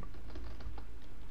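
Fingers tap quickly on a computer keyboard, a close, rapid string of light clicks with no talking.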